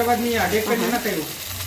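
Finely chopped onion and red tomato frying in a pan give a steady, close sizzle that runs under a voice talking throughout.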